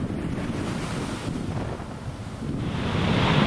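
Ocean surf washes steadily onto a beach. A broad, continuous roar is mixed with wind buffeting the microphone, and it swells slightly louder toward the end, with no voices.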